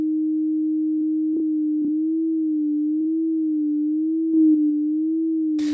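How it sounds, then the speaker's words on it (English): A steady FM synth tone from a Yamaha Reface DX with a sine modulator adding a gentle vibrato wobble, held alone throughout with faint clicks and a short noisy burst at the end. "The modulator is causing a sort of vibrato effect there."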